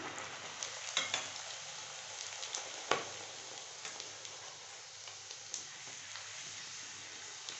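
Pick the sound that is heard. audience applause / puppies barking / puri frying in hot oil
puri frying in hot oil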